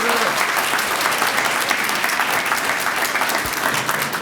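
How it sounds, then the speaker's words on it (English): Warm, steady applause from an outdoor crowd at a senior center grand opening greets District 2 Commissioner Jeff Rader, dense clapping filling the whole stretch with a low murmur underneath. "Could I get a warm round of applause for your District 2 Commissioner"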